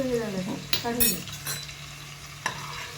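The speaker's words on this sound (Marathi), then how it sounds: "आणि तसेच आम्ही बाकीचेही मोदक तळून घेतोय" Modaks frying in hot oil in a home kitchen, a steady faint sizzle under someone talking, with a few sharp utensil clinks and scrapes against the pan.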